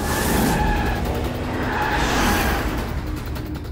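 A car speeds along in a Hindi-dubbed Telugu action film, a loud, steady engine roar with a rushing, skidding tire edge that holds for a few seconds without speech.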